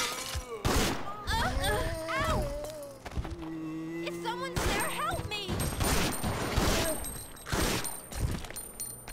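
Gunfire from the video game Resident Evil Outbreak comes in scattered, punchy broadband bursts alongside a voice and other in-game effects.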